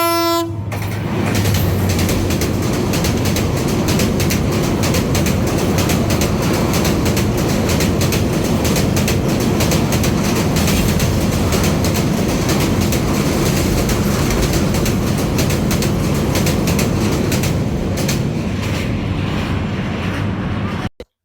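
A train rushing past at close range, a loud continuous roar of wheels and carriages with rhythmic clatter lasting about twenty seconds, a horn sounding at the start, then cutting off abruptly.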